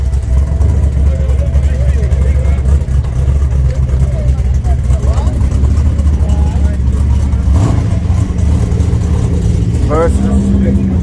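A G-Body Monte Carlo race car idles and revs with a deep, loud, steady engine rumble, close by and continuous, with people talking over it at the track.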